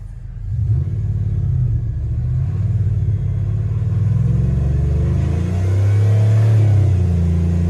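A Dodge Ram pickup truck engine is revved up to 4,000 RPM, a close, loud, rising rumble that climbs and holds at higher revs, running alone without talk.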